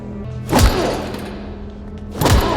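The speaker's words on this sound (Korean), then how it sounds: "다음날 아침 꿀잠을 깨우는 다급한 문소리는 토시오의 오른팔이 신문하기 위해 불러들인 것" Urgent pounding on a door in a film scene, two separate bursts of heavy thuds about two seconds apart, loud and close against a quiet room tone.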